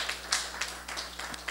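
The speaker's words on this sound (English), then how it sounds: "Give Robbie a round of applause." Audience at a California Assembly District 23 election forum giving a round of applause for a named candidate, scattered claps from a modest crowd, moderately close, uneven and sparse with a few sharper hits over a low hum.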